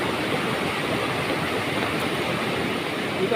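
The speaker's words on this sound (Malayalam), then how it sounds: "ഈ വെള്ളം പോയി പതിക്കുന്ന സ്ഥലമുണ്ട്" A waterfall near a house pours into a large pit, giving a steady, dense roar of rushing water that stays constant throughout, close and uninterrupted, with no voices.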